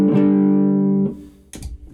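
A violin played through a Timmy overdrive pedal into a bass amp holds one bright, slightly driven note for about a second, then gives a couple of short plucked or bowed hits.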